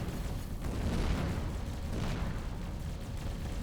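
Explosions rumble through an Avorion space battle, a dense, continuous low roar of overlapping blasts with no clear gaps, loud and steady throughout.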